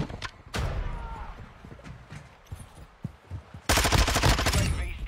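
Video game gunfire crackles in scattered shots, then erupts into a loud, sustained automatic burst near the end, with faint radio-style chatter in the background.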